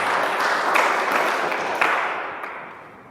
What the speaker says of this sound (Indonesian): Tepuk tangan dulu untuk Ezra.